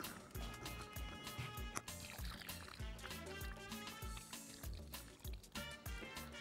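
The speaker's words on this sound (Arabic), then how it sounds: "انا بسقي ميه دلوقتي" Water is poured from a bottle or cup onto soil in a home planter, giving soft, irregular trickling and dripping sounds that are close but very quiet, with no talk.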